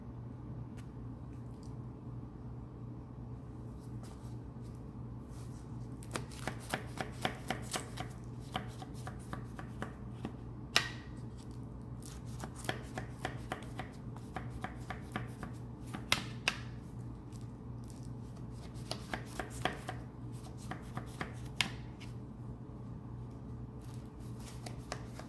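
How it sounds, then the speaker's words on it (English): A knife cuts through layers of homemade baklava pastry, producing a quiet series of crisp crackling slices in irregular bursts over a low steady background hum. "Now I'm going to use my knife to cut them all"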